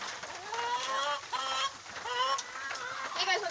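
Chickens clucking inside a coop at bedtime while rain drums loudly on the roof, with close, repeated drawn-out clucks and squawks over a steady background hiss.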